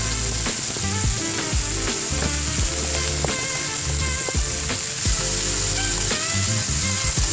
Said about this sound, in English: Bite-sized raccoon meat hits the hot pan. Listen to that sizzle.